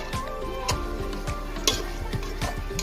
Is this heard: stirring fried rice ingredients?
yes